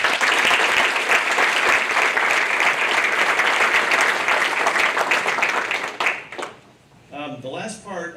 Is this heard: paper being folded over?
no